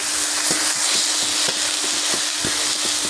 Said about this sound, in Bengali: শাকগুলো আমি আবারও নেড়ে দিচ্ছি।